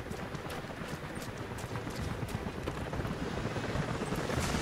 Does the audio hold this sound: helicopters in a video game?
yes